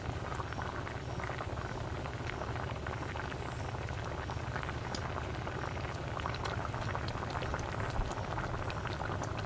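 A pot of Bengali shol fish curry with green mango bubbles at a rolling boil, a dense, continuous burbling of liquid close to the microphone with no talk.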